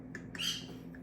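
A pet bird squawks in a home kitchen during Christmas baking, a brief, sharp, close call with a few small chirps around it.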